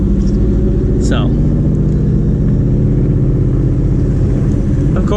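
A car's engine runs loud and close under two-step launch control, a dense, steady rumbling drone with rapid pulsing and a brief sharp squeal early on; voices can be heard over it.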